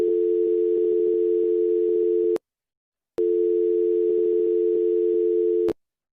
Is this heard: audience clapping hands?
no